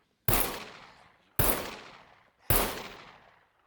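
Three loud, sharp gunshots ring out in the video game Scum, evenly spaced about a second apart, each with a fast attack and a long decaying tail, with no talk.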